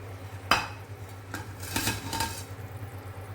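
Noodles dropped into a pot of boiling water in a home kitchen, a sharp clatter followed by soft splashing and bubbling, with a few light knocks against the pot over a steady low hum.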